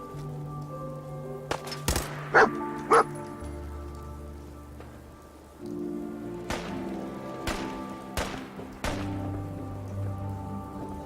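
A dog barks in the video game Fallout 4, a few short, sharp barks early on and more later, with soft whimpers and game sounds around them against a low background hum.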